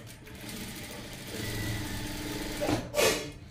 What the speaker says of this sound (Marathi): मग इथे मी शिलाई मारणार आहे। इकडनं पाऊण इंच घ्यायचे, इकडनं अर्धा इंच घ्यायचे आहे, डबल टिप मारून घ्यायची आहे आपल्याला इथे अगदी सावकाश पद्धतीने अशी।